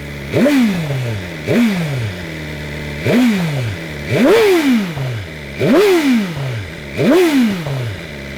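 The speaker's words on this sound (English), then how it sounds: "I'll give you a little rev for you." BMW M 1000 R motorcycle engine revved six times in a steady rhythm, each blip rising sharply in pitch then falling back to a lumpy idle, loud and close with no talking.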